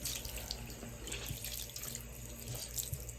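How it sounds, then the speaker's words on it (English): A tap runs steadily into a sink while a makeup sponge is rinsed beneath it, a soft continuous splashing with faint irregular drips, fairly quiet and close. "I'll wring it out, you know, rinse it, wring it out."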